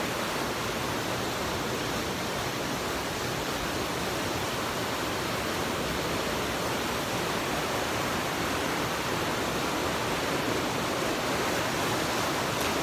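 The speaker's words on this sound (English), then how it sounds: "A beautiful waterfall in the middle of the woods." A waterfall in the middle of the woods in Wisconsin sends up a steady, unbroken rush of falling water, loud and close, with no voices over it.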